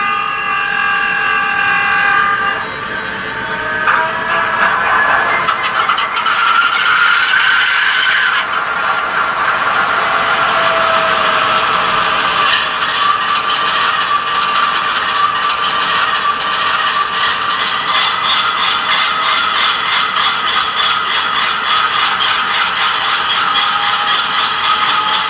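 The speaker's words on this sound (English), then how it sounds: "So that's the startup of the locomotive" A ScaleTrains Dash 9 model locomotive with an ESU Loksound decoder plays its startup sequence: mechanical clanks and ratcheting give way to a steady, loud diesel rumble with a rhythmic pulsing that runs continuously.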